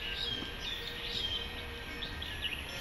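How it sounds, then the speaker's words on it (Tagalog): Small birds chirp faintly in Sung Wong Toi Park, Hong Kong, a few short high tweets scattered over steady outdoor ambience with no talking. "May ibon."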